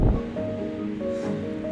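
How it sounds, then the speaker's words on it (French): Head-on wind blows across a mountain slope, a steady rushing buffet against the microphone with low rumble and faint rustling, continuous and fairly loud throughout. "J'ai le vent de face, donc ça c'est nickel."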